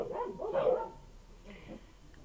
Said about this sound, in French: ce sont les chiennes de partout là qui aboient et c'est une horreur